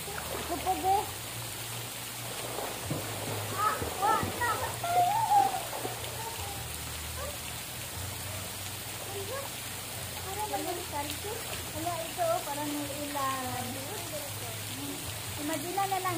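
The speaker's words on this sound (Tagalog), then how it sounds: "Ay, na ulan lang ni." Steady soft rain falling outdoors at a pool resort, a faint constant hiss and patter, with people talking and calling intermittently over it.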